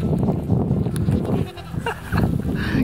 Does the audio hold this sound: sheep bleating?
yes